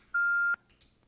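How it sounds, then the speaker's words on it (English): A single steady electronic voicemail beep sounds after a phone system's recorded message prompt, lasting about half a second and cut off sharply, followed by faint background noise. "Please leave a message after the tone."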